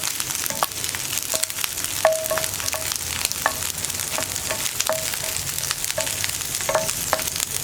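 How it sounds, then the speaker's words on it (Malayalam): Okra (ladies' finger) stir-frying in a pan gives a soft, continuous sizzle broken by frequent light taps and scrapes of a spoon against the metal. "നമ്മുടെ വെണ്ടയ്ക്ക ഒന്ന് കുക്കായി തുടങ്ങുന്നുണ്ട്."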